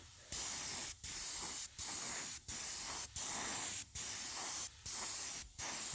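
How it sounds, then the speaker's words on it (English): Spray paint hisses onto an HO scale GP9 model locomotive in steady, even bursts of about half a second, separated by brief pauses, close and fairly quiet with no talking. "Just spray it on very slowly."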